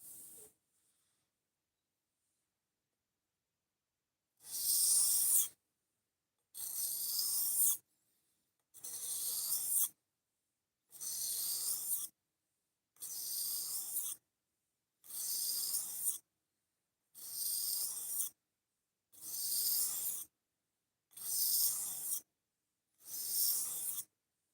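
A knife is sharpened freehand on a stone in ten evenly spaced, bright scraping strokes, each about a second long with quiet pauses between them, close and without talking.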